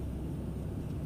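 Steady low turboprop drone from a TBM 850 single-engine aircraft as engine power comes up for a go-around, a continuous loud rumble heard alone from inside the cabin.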